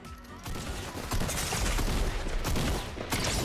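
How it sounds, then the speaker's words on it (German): A gun fires on its own in Fortnite, a dense, continuous burst of rapid shots that holds loud and rough across the whole stretch. "Meine Waffe schießt einfach von allein!"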